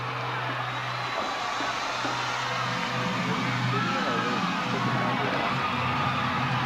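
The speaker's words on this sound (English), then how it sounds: "The crowd loves it." A wrestling crowd cheers and roars during a lumberjack match, a dense, steady wall of noise that stays loud and unbroken throughout, with a low hum running underneath.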